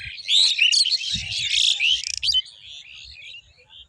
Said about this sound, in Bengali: শালিক পাখি বলা হয়।